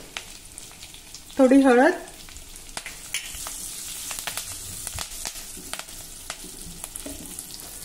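Curry leaves and a pinch of asafoetida crackle and sizzle in hot oil with browned garlic, a steady close frying hiss with occasional stirring clicks and a brief spoken line.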